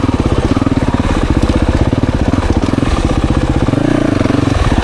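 A 2024 Yamaha YZ450FX dirt bike runs steadily through the woods, its engine a loud, close, continuous thumping drone with rapid pulsing and mild shifts in revs, with no talk over it.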